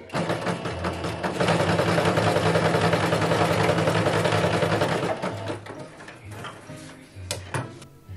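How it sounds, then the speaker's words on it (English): A sewing machine stitches the back of a leather hat band for an officer's hat, running in a steady loud rapid burst for several seconds, then slowing into a few separate short runs and ticks near the end. "I am sewing the back of my band first"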